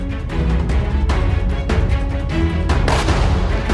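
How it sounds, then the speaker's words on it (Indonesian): Gunfire exchange during the Hamas attack, a loud dense run of heavy booming shots and bursts following one another in quick irregular succession, close and continuous. "Baku tembak terus berlanjut setelah malam tiba."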